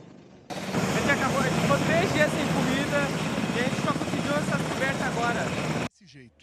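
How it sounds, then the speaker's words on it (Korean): A rescue helicopter hovers low over flooded houses, its rotor beating in a steady loud chop with engine whine, while a voice talks over it before the sound cuts off. "보트도 여의치 않자 헬기를 타고 집 위로 내려옵니다."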